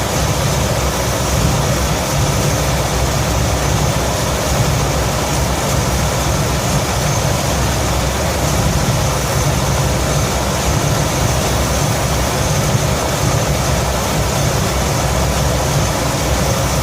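A 1966 Ford F100 truck with a V8 engine in poor running condition idles steadily at close range, producing a continuous dense, low rumble with no breaks or changes in revs.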